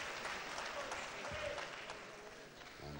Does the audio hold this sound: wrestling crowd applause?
yes